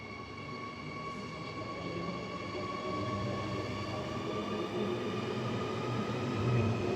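A Perth train departs for the siding in a steady, building rumble of wheels and motor with a high tonal whine, growing slightly louder as it pulls away. No voices are heard.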